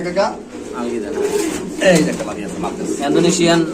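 Pigeons at a Bangladeshi pigeon market coo in low, repeated bursts close by, mixed with people talking throughout.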